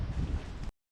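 Wind outdoors at Afton State Park buffets the microphone with a low, rough rushing roar for under a second before abruptly stopping, faint and without voices.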